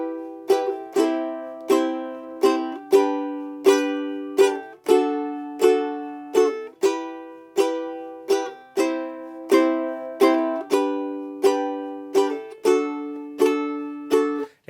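Ukulele strummed with steady down strums in a popular song's pattern, each chord ringing out and decaying before the next, close and clear with no talking.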